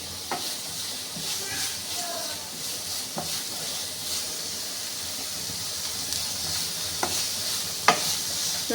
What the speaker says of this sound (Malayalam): ഇതൊന്ന് വഴറ്റി കൊടുക്കുക.